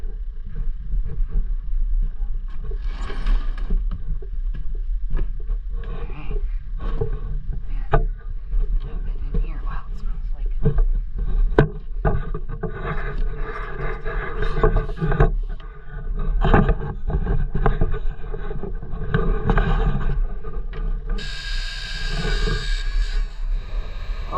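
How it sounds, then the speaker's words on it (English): An old 12-valve Cummins diesel engine cranks on a cold start without a block heater and settles into a loud, rough, clattering idle, with a voice heard over the engine. "We're gonna start the old 12 valve."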